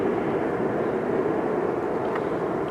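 A Boeing 787 Dreamliner arriving from Amsterdam at Philadelphia airport gives a steady, moderately distant broadband jet rumble that holds evenly throughout.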